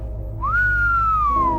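A grandmother whistles a single clear, rising then slowly falling tone, close and fairly loud over a low background hum.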